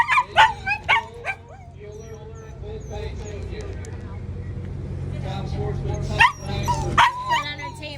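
A dog yips and barks in short bursts, then whimpers and whines steadily, with another round of sharp barks near the end, recorded at a drag race at Maple Grove Raceway amid a steady low hum.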